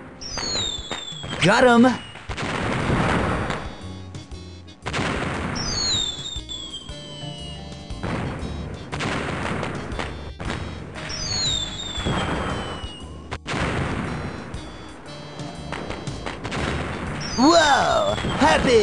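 Fireworks going off in a video game, several loud whistling launches each followed by crackling bursts and booms, spaced a few seconds apart, with a brief voice exclaiming between them.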